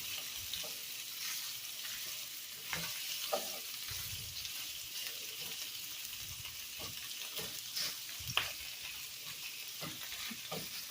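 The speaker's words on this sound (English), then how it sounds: "I hear some popping sounds, so I'm just going to reduce the heat just a hair so that way there's not a lot of splashing" Vegetables frying in a pot as the base for lentil soup, a steady soft sizzle broken by scattered pops and stirring clicks, close but fairly quiet.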